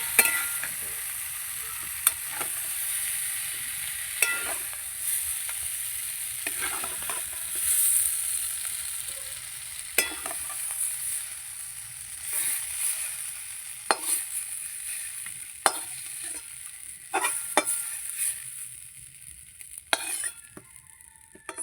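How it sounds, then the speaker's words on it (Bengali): Flat beans fry in oil in a pan, a steady high sizzle broken by repeated scraping and clinking strokes of a spatula stirring them, close and alone without any talk. "সিম আমি ভেজে নিয়েছি, এবার তুলে নিচ্ছি।"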